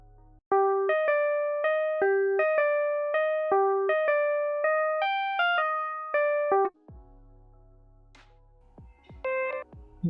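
A dry synth main melody for a beat made in FL Studio plays clean, repeating plucked notes with no effects. It stops after several bars, then brief low, fainter clicks and notes follow.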